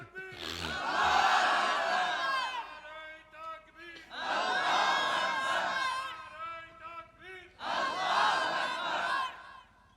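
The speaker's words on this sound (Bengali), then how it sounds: "মাঝখান থেকে একজন তাকবীর দেন তো দেখি।" A crowd at an Islamic religious gathering shouts the takbir chant Allahu Akbar in three loud, sustained unison bursts separated by short pauses, many voices together and close.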